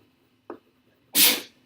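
One sharp, fairly loud sneeze in a quiet pre-calculus classroom, preceded by a faint short intake sound.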